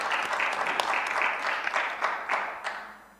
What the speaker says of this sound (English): on a quick round of applause for everybody here